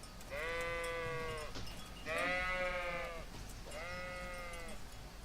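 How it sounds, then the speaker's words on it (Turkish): A flock of sheep in Kingdom Come Deliverance gives three long quavering bleats in succession, each about a second long, near and distinct above a soft outdoor game ambience. "Koyunlara doğru gidiyor bu adam."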